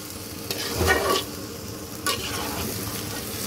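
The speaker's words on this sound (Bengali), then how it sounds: "মিক্সড করে দেওয়ার পরে আঁচটা একটু কম রেখে আমি এটাকে সুন্দর করে কষাবো।" Goat meat and spices sauté gently over low heat while a spoon stirs and scrapes the pan, with a soft constant sizzle and a couple of louder stirring strokes, close up and without talk.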